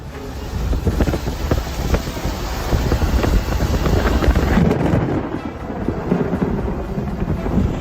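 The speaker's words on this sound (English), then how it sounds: "The sky over Jacksonville, Florida erupted with the roaring sound of thunder." Thunder roars over Jacksonville, Florida, a long, loud, rolling rumble that swells and subsides over several seconds, mixed with gusting wind buffeting the microphone and a hiss of rain.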